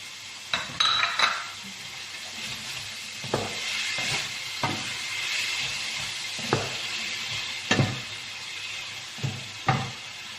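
Pork and chicken blood with bean sprouts being stir-fried in a pan, a steady sizzle broken by repeated scraping and clinking strokes of a spatula against the pan at an uneven rhythm, close and fairly loud.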